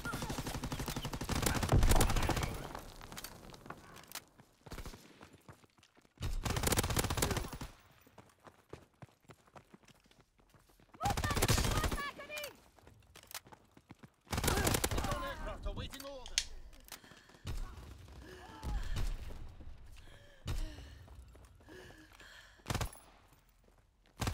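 Submachine gun fire in Call of Duty: WWII on a small map: several sharp automatic bursts, each a second or two long, spread through the stretch, with a voice talking in the quieter gaps.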